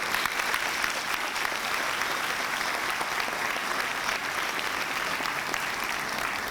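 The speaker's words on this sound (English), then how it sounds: "a round of applause" A graduation audience claps for families, guardians, teachers and mentors at the Barack Obama School for Social Justice ceremony; sustained, even, dense applause fills the whole stretch at a steady loudness.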